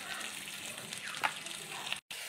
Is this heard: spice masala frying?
yes